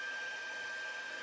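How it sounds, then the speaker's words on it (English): An embossing heat gun warming up gives a steady, even fan hum with a thin whine running through it, moderately quiet and unchanging, with no voices. "On your embossing gun, there are 2 settings."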